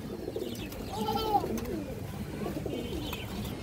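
Pigeons coo softly up close in a few short, warbling calls over a busy, murmuring background.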